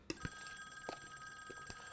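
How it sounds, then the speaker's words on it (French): A telephone rings in a Squid Game episode: faint, repeated bell-like pulses at an uneven pace, heard quietly in the background with no one speaking. "Ne pas me faire croire que tu vas répondre au téléphone."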